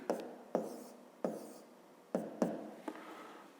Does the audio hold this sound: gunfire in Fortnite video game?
no